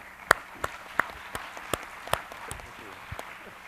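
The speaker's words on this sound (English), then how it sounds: "So please welcome the panelists with a round of applause." Light, sparse clapping from a roundtable audience welcoming panelists: a handful of distinct claps spaced out at a loose rhythm over a quiet background.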